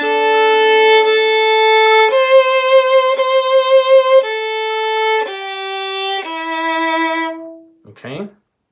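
A violin plays a slow, soft passage from Evening Prayer, measures 15 and 16, with clear sustained bowed notes stepping through pitches one by one, close and alone, followed by a brief squeak at the end.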